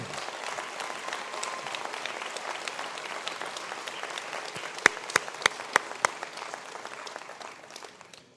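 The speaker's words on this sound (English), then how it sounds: "I ask all the graduates of the Bachelor of Engineering in Mechatronics to stand for a round of applause." Dense, steady applause from a conferring ceremony crowd for Bachelor of Engineering in Mechatronics graduates, with a few sharp louder claps standing out near the middle.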